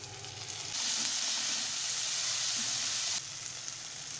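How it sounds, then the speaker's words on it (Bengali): Chopped onion and tomato sizzle steadily in a hot pan, a continuous close frying hiss that swells louder once the tomato goes in and then eases back near the end. "একটু ভাজা ভাজা হয়েছে পেঁয়াজটা, আমি একটা টমেটো আমি দিয়ে দিলাম এর মধ্যে"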